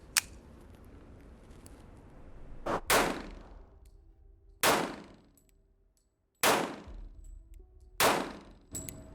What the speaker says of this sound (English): So we'll just shoot a couple shots here.